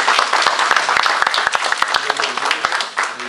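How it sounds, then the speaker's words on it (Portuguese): An audience at a municipal education forum conference applauds with dense, steady clapping that fills the room throughout, with some voices mixed in beneath it. "Se não, em aplausos aí."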